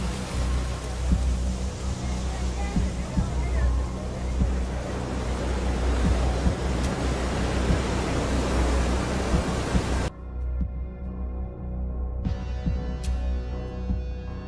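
Open ocean waves roll in a continuous loud wash of surf with wind buffeting the microphone, steady throughout, then thinning briefly near the end.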